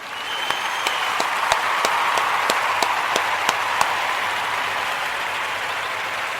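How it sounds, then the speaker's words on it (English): An audience applauds steadily and fairly loudly for several seconds, a dense wash of many hands with a few sharper individual claps standing out near the start. "I want to give all of the Ujima babies a round of applause."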